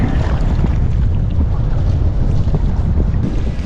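Strong wind roars and buffets the microphone nonstop, a loud low rumble over churning water of the Adriatic Sea while kayaking near Vodice, Croatia.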